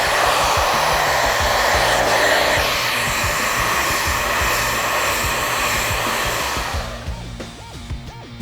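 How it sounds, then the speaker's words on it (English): A handheld hair dryer blows steadily and loudly while hair is brushed through with a round bristle brush, a continuous close airflow roar that drops away near the end. "get my dryer on it."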